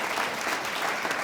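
A brief burst of audience applause, many hands clapping steadily at moderate volume.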